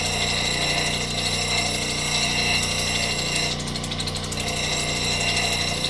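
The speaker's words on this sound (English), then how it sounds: "I'm going to go ahead and do the edge of this on the 280." A Highland Park SM1 shaping machine grinds the edge of a labradorite piece on a 280-grit wheel. The whine and grinding are loud, close and continuous, holding steady throughout.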